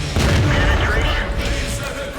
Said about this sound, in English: the KV-1S will finish that Panzer IV off with a single shot